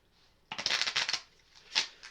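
Playing cards for a Strat-O-Matic hockey tabletop game are shuffled in a quick riffle burst of crisp rapid flutters, followed by a brief softer snap, close and fairly quiet.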